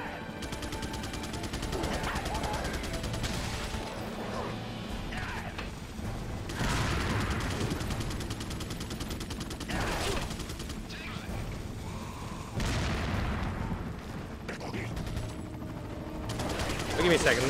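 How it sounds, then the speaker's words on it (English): Rapid bursts of Resident Evil 4 gunfire and booming explosions, loud and continuous, with a voice talking faintly underneath. "Explosions, guns!"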